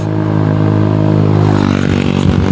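A Kawasaki Ninja 250 FI fitted with a Pro Liner exhaust is ridden nearby with a loud, steady engine note that rises briefly at the end as the throttle opens.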